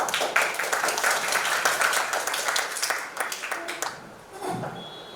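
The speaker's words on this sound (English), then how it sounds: "clap for him" Classroom audience applauding a student during a beetle-in-the-maze game lesson, a dense burst of many hands clapping for about four seconds before fading, with faint voices around it.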